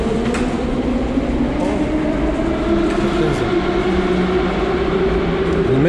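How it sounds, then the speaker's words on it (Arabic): A Moscow metro train rumbles loudly and continuously, with rising and falling tonal whine from the motors and faint rail clatter over a low, heavy roar. "المترو بيجي كل تقريبا دقيقتين."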